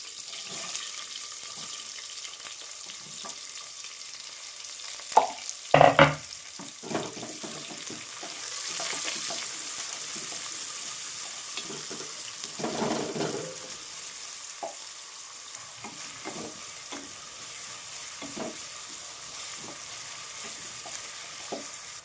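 Mustard seeds, cumin, onion and green chilli frying in a pan: a soft ongoing sizzle with occasional spoon clinks and knocks, a few louder clatters early on and brief bursts like running water, no talk.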